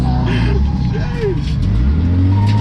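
A car engine drones and revs under throttle during drift practice, a loud, steady low growl with rising pitch changes, while people talk over it.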